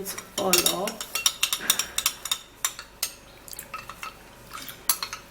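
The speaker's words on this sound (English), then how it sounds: "we're gonna mix these 2 ingredients all up" Starch and another ingredient are stirred together in a bowl, giving a series of close, light clinks and scrapes of a utensil against the dish in an uneven rhythm.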